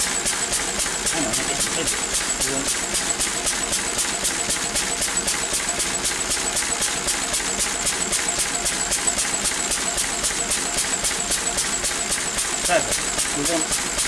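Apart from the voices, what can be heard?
Lister D diesel engine running on a dyno test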